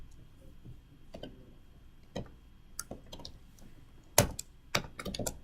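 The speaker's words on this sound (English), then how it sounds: "So let's see what happens if I type it." Computer keyboard typing at a desk during a Python programming lesson: a few sparse, separate key clicks and taps over a quiet background, with a sharper cluster near the end and no talking.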